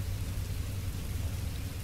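Rain falls in the video game Minecraft Story Mode, a steady, even hiss of downpour heard alone and without break for the whole moment.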